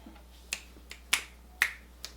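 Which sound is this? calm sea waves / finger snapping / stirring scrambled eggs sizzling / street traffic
finger snapping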